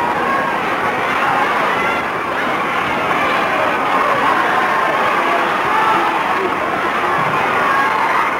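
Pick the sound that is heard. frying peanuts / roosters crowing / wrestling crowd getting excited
wrestling crowd getting excited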